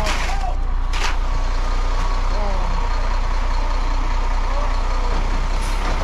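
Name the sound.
truck reversing on patio job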